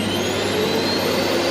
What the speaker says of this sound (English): I sucked the TV up in a vacuum cleaner